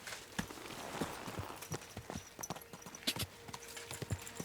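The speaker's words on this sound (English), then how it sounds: "Come on over, horsey." A horse walks with clip-clop hooves in the video game Kingdom Come: Deliverance 2, a quiet, uneven series of knocks against faint outdoor background.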